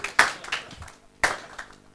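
A few hand claps in a lecture hall setting, two short bursts of clapping about a second apart, close and moderately loud with no talk over them.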